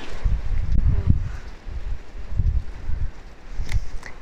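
Strong gusts of wind buffet the microphone outdoors, with a steady roaring rumble that swells and eases in several waves and faint rustling beneath it.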